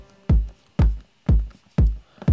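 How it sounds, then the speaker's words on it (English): Four deep, punchy kick drum hits from an 809 modular synth, evenly spaced about half a second apart, each with a sharp attack and a booming low decay, played alone and fairly loud. "This kick drum"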